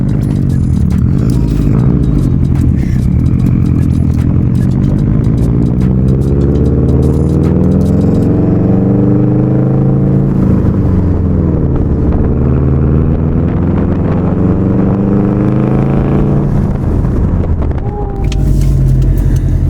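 A Subaru WRX STi engine roars loudly through a Tomei exhaust, rising and falling through repeated revs and sustained acceleration, close and dominant throughout, with a brief dip near the end.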